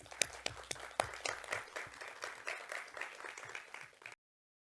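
Faint applause welcomes speakers to a virtual symposium stage on the Activating Fluxus project, a few distinct claps over a soft spread of clapping that stops abruptly into silence.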